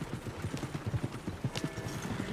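Horse hooves clip-clopping at a steady trot in Red Dead Redemption 2, close and fairly loud, a continuous rhythmic patter of footfalls on a trail with faint background ambience.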